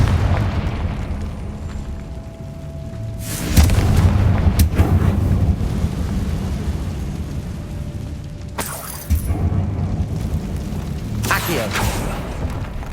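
The Confringo blasting spell in Hogwarts Legacy sets off three heavy, booming explosions spaced several seconds apart, each a sudden loud burst. A low rumble and ambient game sound fill the gaps between them.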